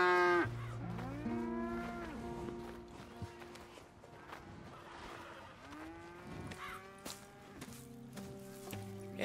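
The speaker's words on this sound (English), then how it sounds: "Here's the cows." Cattle moo in the video game Red Dead Redemption 2, with several long, low, drawn-out calls overlapping at a farm. The calls are loud at first and then continue at varying distances over faint ambient noise.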